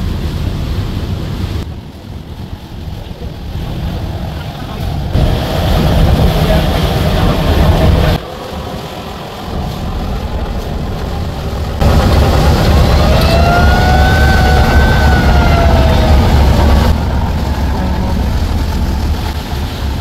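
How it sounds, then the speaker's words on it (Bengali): Loud continuous engine drone and wind rush aboard a passenger river launch, the turbo engine steady throughout with a faint rising whine partway through; no talking. "দোয়েল পাখি 10 লঞ্চের টার্বো ইঞ্জিনের আওয়াজ কিন্তু আমরা শুনতে পাচ্ছিলাম।"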